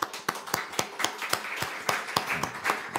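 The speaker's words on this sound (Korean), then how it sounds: "박수 한번 보냅니다." A church congregation claps in a quick, even rhythm, about a dozen sharp claps at moderate volume.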